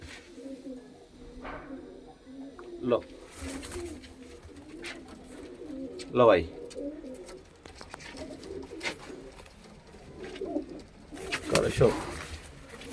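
A red Chinese male pigeon, a flying breed, coos softly in a few brief bursts close by, with someone talking over and between the calls.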